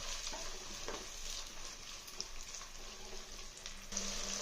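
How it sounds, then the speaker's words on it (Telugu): Onions, green chillies, coriander stems and curry leaves frying in oil in a clay pot, a steady close sizzle and crackle with light stirring, no talk. "ఈ ఆయిల్లోకి ఉల్లిపాయలు పచ్చిమిరపకాయలు కొత్తిమీర కాడలు కరివేపాకు ఇవన్నీ వేసి కొంచెం లైట్ బ్రౌన్ వచ్చిన దాకా వేయించడం"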